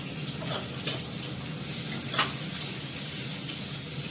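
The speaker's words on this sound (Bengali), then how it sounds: "দুটো শুকনো লঙ্কা দিয়ে দিলাম ফাটিয়ে। তার মধ্যে দিয়ে দেবো পেঁয়াজ আর রসুনটা" Onion and garlic fry with dried red chillies in hot oil, a dense steady sizzle with occasional sharp pops and stirring scrapes, close and fairly loud.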